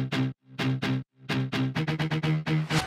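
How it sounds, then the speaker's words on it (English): A distorted bass guitar plays a choppy, gritty riff for a future bass track, loud and buzzing with rich overtones, in short stabs that quicken into rapid repeated notes, with no voices. "For the basses, start with a distorted bass guitar."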